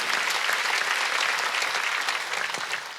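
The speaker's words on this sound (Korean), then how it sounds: "박수야." A church congregation claps during a Sunday worship service, a dense, loud burst of many hands that continues steadily and eases slightly at the end.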